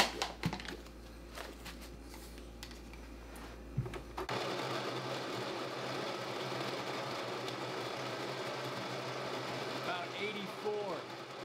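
A coffee grinder runs on a kitchen countertop with no noise suppression, starting after a few clicks and handling sounds, then whirring loudly and continuously with a gritty grinding rasp for several seconds.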